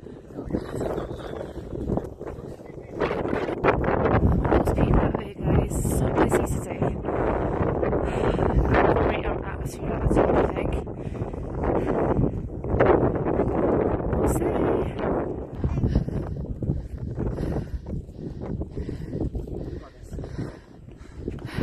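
Strong gusty wind blasts across a mountain top about 3000 feet up, loud roaring surges that rise and fall throughout, with people talking intermittently between gusts.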